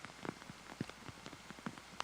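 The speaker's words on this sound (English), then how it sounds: "as the rain falls here at Aqueduct" Rain falling at Aqueduct racetrack in New York, heard as faint scattered patters and drips on surfaces, soft and irregular with no voices.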